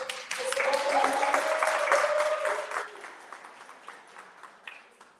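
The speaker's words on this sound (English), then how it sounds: "So I just want to give Hannah a hand clap for her." A burst of audience applause and clapping at a house music festival conference in Chicago swells, then gradually fades out, with a voice briefly heard over it early on.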